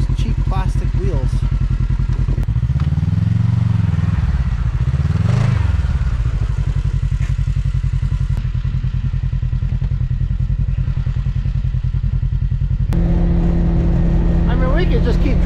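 Sport UTV on Camso snow tracks drives along with a loud, steady engine drone and clattering track noise, one deeper revving swell midway, while people talk over it throughout.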